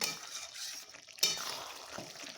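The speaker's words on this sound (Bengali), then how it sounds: "তখন চিকেনটা মশলাটা ভেজে নিচ্ছি, ঢাকা দিয়ে দিয়ে কষে নিচ্ছি।" Chicken frying with spice masala in a covered pan, a steady sizzle with stirring scrapes and a sharp clink of a utensil midway, close and moderately loud.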